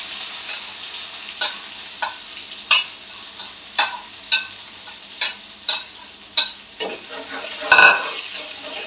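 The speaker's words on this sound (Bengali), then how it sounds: "পেঁয়াজটা আমি একটু ভেজে নিচ্ছি।" Onions sizzle steadily in hot oil while a utensil scrapes and stirs the pan in regular strokes, close by.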